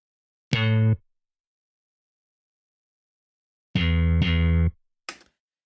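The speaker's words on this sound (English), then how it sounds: "I added a little bit of a sample bass." Three deep, sustained synth-like sampled bass notes with a rich harmonic tone, the last two back to back, followed by a brief quieter blip.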